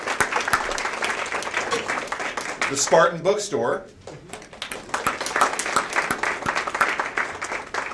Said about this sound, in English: give them a big round of applause for putting this together